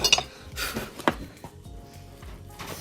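A utensil scrapes and clinks against a bowl several times in uneven strokes, close by, with light clattering in between.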